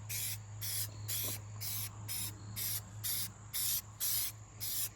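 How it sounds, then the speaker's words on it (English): A spray paint can bought at Walmart puffs gray paint onto a Halloween yard haunt sign in about ten short, even bursts of hiss, close to the microphone. "He is going to spray some gray."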